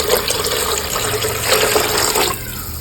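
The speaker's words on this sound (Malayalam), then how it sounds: "1 കിലോ അരിക്കനുസരിച്ച് വെള്ളം ഒഴിക്കണം." Water pours steadily into a pan for a kilogram of rice for biryani, a loud continuous splashing rush that tapers off abruptly near the end.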